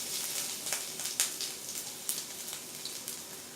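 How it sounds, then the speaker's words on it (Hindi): Finely chopped ginger and garlic sizzle in hot oil in a pan for chilli paneer, a steady, quiet crackle with small pops scattered through it and no voices. "तेल हमारा गर्म हो चुका है। अब हम इसमें डाल देंगे अदरक और लहसुन"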